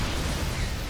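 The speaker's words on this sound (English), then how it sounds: "Massive tank shots going up." Heavy siege tank cannon blasts in a StarCraft match, a dense, loud rumble of overlapping explosive shots with no voices on top.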